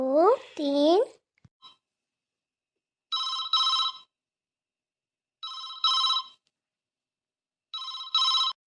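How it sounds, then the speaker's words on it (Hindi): A voice speaks briefly, then a telephone rings in three double-trill bursts separated by pauses, loud and close. "अरे अब ये फोन किसका आने लगा"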